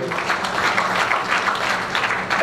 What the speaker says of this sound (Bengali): গভর্নমেন্টের জন্য হাততালি হবে